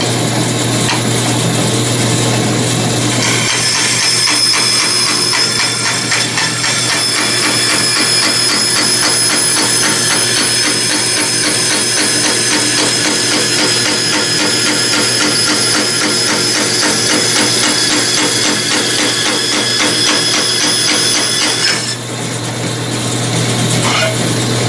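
Power saw blade cutting through aluminum stock lubricated with kerosene in a home machine shop, a steady loud mechanical whir with a fine rapid rasping texture running continuously for about twenty seconds before stopping.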